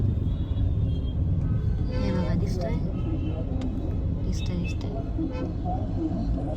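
Busy Delhi road traffic near the Red Fort at night, a constant low rumble of vehicles with scattered car horns honking, under people talking close by.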